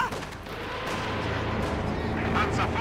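Rocket artillery fires in a Company of Heroes 2 match, a dense rolling barrage of booms and crackles under constant excited commentary.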